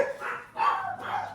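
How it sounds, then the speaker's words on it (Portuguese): Dogs bark in a few short, yelping bursts at moderate distance, overlapping one another in a quick cluster. "tirando quando os meus cachorros resolvem latir"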